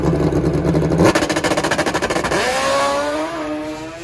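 A nitrous-fed turbocharged drag racing motorcycle makes a straight eighth-mile run on a drag strip. Its loud engine note pulses in rapid, stuttering bursts, then settles into a smooth, rising high-revving wail as it pulls away.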